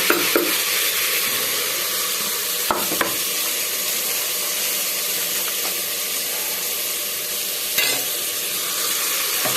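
Mint, coriander and green chilies fry and get stirred in a pan for chicken biryani, giving a steady close sizzle with a few scraping clicks of the spoon and no talking.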